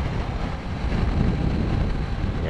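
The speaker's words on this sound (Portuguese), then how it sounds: "Ah, muita ventaninha aqui." Strong wind at the top of a mountain road on a Kawasaki Z900 motorcycle ride, a loud, steady roar buffeting the microphone throughout, with no voices.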